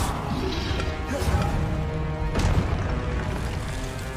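Spell blasts from the Confringo fire spell in Hogwarts Legacy sound as dull booming impacts over a dense, steady game soundscape, with a sharper burst about halfway through.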